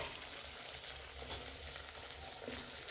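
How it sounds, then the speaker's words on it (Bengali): Stuffed ash gourd fries in oil in a covered pan, producing a soft, muffled, even sizzle that holds steady without a break. "এইটা এবার আমি ঢাকনা দিয়ে ভেজে নিই"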